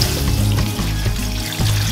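Filtered water poured from a container over frozen turkey bones in a stockpot for bone broth, a steady splashing gush close by with slight surges, running alone without talk.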